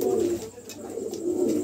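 Pair of Lahori pigeons cooing close by, two short throaty coos separated by a brief pause, clear and alone.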